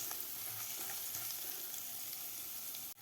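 Ginger, asafoetida and cumin sauté in a pan for Mumbai-style black chana chaat, giving a soft, even sizzle that runs throughout, with faint stirring and a brief dropout at the very end.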